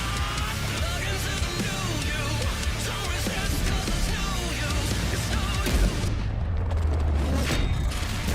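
Dense, continuous battle noise from World of Tanks, with rumbling explosions and booming tank fire layered over one another, loud and unbroken, with a heavy low thud late on.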